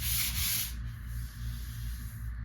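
Salvaged old furniture hand-sanded with 320-grit sandpaper, a close, steady rubbing hiss that eases off partway through.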